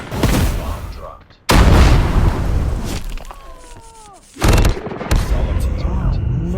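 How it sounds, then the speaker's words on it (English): Loud booms and bursts of gunfire from a military shooter video game follow a dropped bomb, with heavy blasts in quick succession, rattling shots and descending whistles. The sound is close and punchy. "Bomb dropped."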